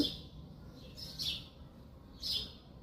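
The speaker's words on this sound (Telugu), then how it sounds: "ఇదిగోండి బర్డ్స్ ఎంత బాగా సౌండ్ చేస్తున్నాయో." Birds chirp in an early morning garden, a couple of brief high tweets spaced about a second apart, faint and somewhat distant over quiet outdoor background noise.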